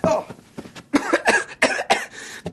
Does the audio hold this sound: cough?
yes